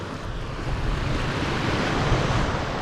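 Sea waves at Cha-am beach in Thailand, a continuous close wash of surf with wind buffeting the microphone, rising slightly in loudness partway through and no talk.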